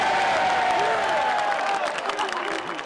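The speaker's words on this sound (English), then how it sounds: "The Bleacher Creatures calling card is the roll call. They chant each player's name as the Yankees are on the field" Bleacher Creatures in the old Yankee Stadium bleachers chant the roll call at a baseball game, a loud, dense crowd roar with sustained voiced chanting and clapping throughout.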